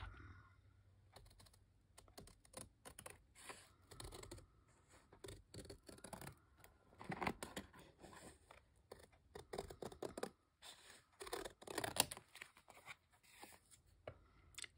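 Small scissors trim around a paper craft tag in quick, quiet bursts of snipping and rustling, with brief pauses between cuts and no talking.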